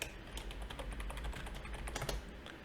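Quiet, rapid keystrokes on a computer keyboard form a steady stream of close, light clicks, with no talking.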